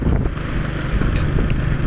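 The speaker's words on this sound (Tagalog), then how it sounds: "Pero malakas naman yung hangin." Strong wind buffets the microphone outdoors in a steady, loud rush with low rumbling gusts and no speech.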